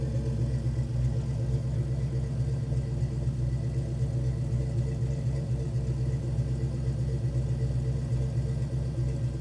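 Car engine idling steadily after a Pro-M EFI fuel injection installation, with the base idle speed set and the IAC reconnected; a constant close, low rumble with no talking.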